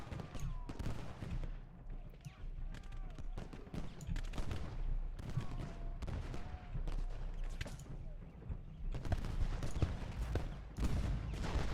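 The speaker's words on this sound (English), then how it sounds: "Cannons are firing." Cannon and rifle fire rings out in Ultimate General: Gettysburg, a Civil War battle game, as dense, rapid volleys of crackling shots and booms repeat continuously at a fairly low level.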